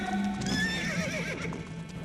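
Horses of an army neigh and whinny, with a long rising and falling cry over a steady backdrop of hoof stamping and clip-clop, loud and close with no talk.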